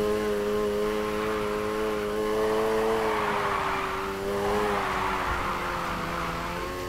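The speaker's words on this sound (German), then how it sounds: "Vollgas, dann Gas halten, gegenlenken" A car engine in the Need for Speed Heat racing game holds high revs while drifting, a loud sustained harmonic whine that wavers slightly in pitch and runs continuously with no break.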